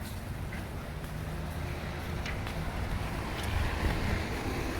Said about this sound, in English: Too much wind and the umbrella is no good. And sometimes the wind comes from everywhere.